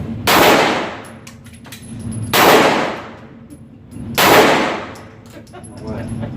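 Three loud gunshots ring out at a shooting range about two seconds apart, each a sharp close blast with a ringing decay.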